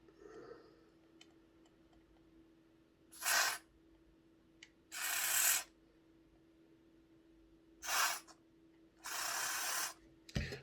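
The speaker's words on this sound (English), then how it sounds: "I need to give these axles a clean out, so I'll squirt some contact cleaner through them." Four separate bursts of contact cleaner sprayed from an aerosol can through the axles of a Hornby APT model train, each lasting about half a second to a second and a half, close and moderately loud against a faint steady hum.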